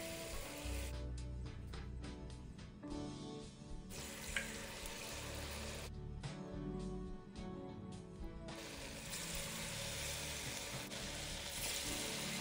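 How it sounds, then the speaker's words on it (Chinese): Battered slices of rice cake (nian gao) deep frying in hot oil over medium heat, giving a steady, close, dense sizzle and crackle that swells and eases in places, with no talking. "放入油炸"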